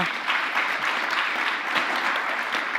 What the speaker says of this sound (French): Je pense que vous pouvez les applaudir pour ces éclairages